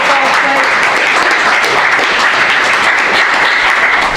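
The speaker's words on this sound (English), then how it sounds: "You clap for us." A crowd claps at a public talk on secularism in Ireland, continuous and loud, with a few voices murmuring faintly under the clapping.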